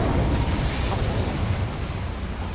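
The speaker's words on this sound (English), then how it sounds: "Incendio should be enough to light these flames." Incendio fire spell cast to light flames in Hogwarts Legacy, a loud, dense whooshing burst of fiery roar sustained across the whole moment, with a rumbling low end and no talk over it.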